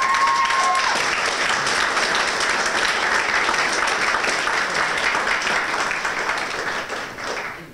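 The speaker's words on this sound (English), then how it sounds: "how about we get the biggest round of applause for these people?" Large audience at a tech event applauding teachers and mentors, a sustained loud round of clapping that stays even before tapering off at the end.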